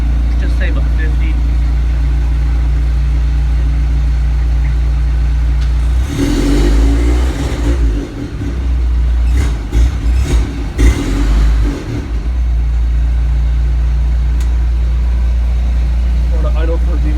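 A Jeep CJ5 idles steadily after a cold start, a constant low engine rumble that runs the whole time, briefly disturbed in the middle by louder rustling and handling noise, with someone talking now and then.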